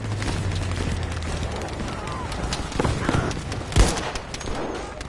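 Battlefield V gunfire rattles through a busy game battle, with bursts of shots and a heavy boom near the middle over constant background noise.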